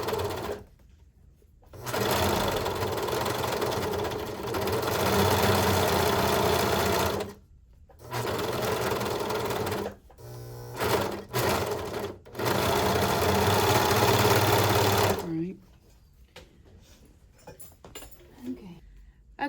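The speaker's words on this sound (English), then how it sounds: "once you have serged all the way around and serged your seam open" A serger stitching the seam of a fabric pencil pouch runs in long steady buzzing stretches, stopping and restarting several times, loud and close with pauses between runs.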